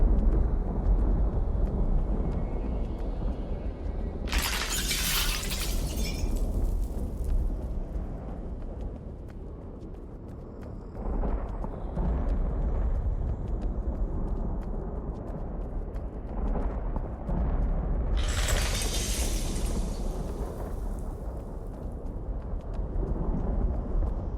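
Objects shatter in a video game, two bright crashing bursts some fifteen seconds apart rising above a steady low rumbling ambience.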